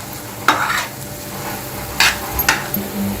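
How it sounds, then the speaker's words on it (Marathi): Onion with garlic masala and red chilli powder is sautéed and stirred in a pan, a steady close sizzle broken by three distinct scraping stirs of a spatula against the pan, with no voices. "1 मिनिट परतून घेऊ।"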